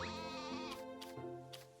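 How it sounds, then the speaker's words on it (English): A sheep bleats in the farming video game Story of Seasons: A Wonderful Life, a clear wavering cry heard up close, alone and without talk. "sheep noises instead."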